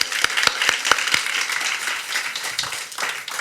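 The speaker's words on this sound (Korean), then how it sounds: "새해를 행하신 하나님께 감사의 박수 한번 올려드릴까요?" Congregation in a church service clapping together in thanks to God, a dense steady patter of many hands with a few sharper individual claps standing out at the start, continuing without speech for several seconds.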